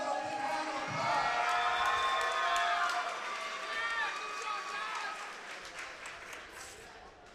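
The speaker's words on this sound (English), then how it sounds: "Let's give him another big round of applause." A kickboxing match crowd applauds and cheers after a fight, a broad wash of clapping and whoops that swells and then slowly fades while an announcer speaks over it.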